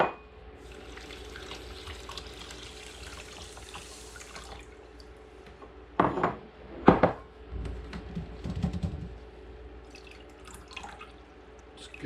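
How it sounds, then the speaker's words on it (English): Lentils are rinsed for Lebanese mujaddara: a soft stream of tap water runs into a sink, then sharper splashes and sloshing bursts come as the lentils are swirled and drained, close by and moderately loud. "So I'm just gonna give it a rinse to really just to wash it."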